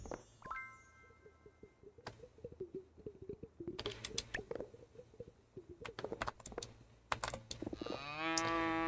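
Cows moo in the video game Moonlight Peaks, several low bellowing calls spread across the scene, mixed with a clatter of keyboard typing and a brighter game chime near the end.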